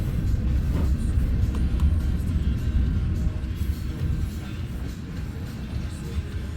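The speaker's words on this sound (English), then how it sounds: "And it looks like it's going to be another unit train of grain or corn." A Union Pacific unit train of grain or corn hoppers passes on the Blair Fremont Sub, a continuous low rumble and rolling wheel noise that fades slightly toward the end.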